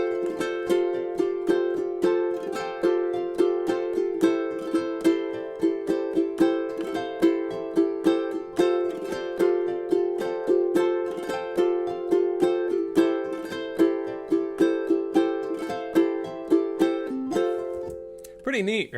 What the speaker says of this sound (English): it's going to sound something like this when you play the strum part with the backing track